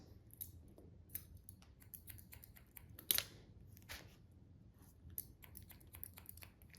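Scissors snipping hair during a boy's haircut, a series of quiet, sharp clicks in irregular rhythm, up close, with one louder snip midway.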